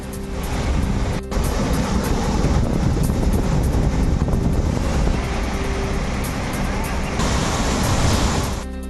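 Randha waterfall near Bhandardara dam, swollen by heavy monsoon rain, gives a loud, steady, close roar of crashing water throughout, with no break.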